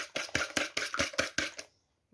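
A fork briskly beating eggs in a bowl for homemade noodle dough, about eight quick rhythmic clicking strokes close by, then stopping into silence.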